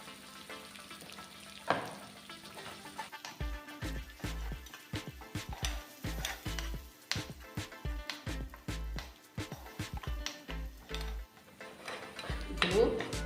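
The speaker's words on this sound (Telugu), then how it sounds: "ఇప్పుడు మనం ఇలా కొద్దిసేపు వాడ్చుకోవాలి. వాడ్చుకుంటే చాలా మంచి వాసన వస్తుంది." Cucumber pickle tempering sautéed with salt and asafoetida in a pan, a quiet sizzle under busy metallic clinks and scrapes of a spoon against the pan, with low thumps from the pan.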